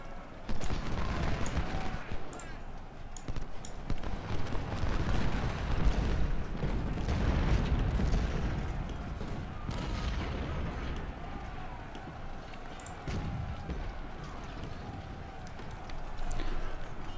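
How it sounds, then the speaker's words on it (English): Artillery fire in the Civil War strategy game Ultimate General: Civil War: a steady stream of heavy booms and rumbling blasts, some overlapping, rolling on continuously for the whole stretch with a dense low roar underneath. "We are under artillery attack"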